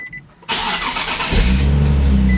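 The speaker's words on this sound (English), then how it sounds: "Car starts good." A Nissan 370Z cranks after a brief quiet moment, with a burst of starter whine, then the engine catches and settles into a loud, deep, steady idle close by.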